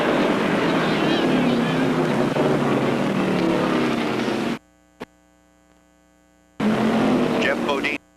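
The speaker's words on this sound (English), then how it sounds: "the roar begins as all cars thunder down the main straight for the green flag" A pack of 1975 NASCAR Modified race cars roars down the main straight at Martinsville Speedway at the green flag, a loud, dense engine roar that cuts off abruptly, then returns just as loud.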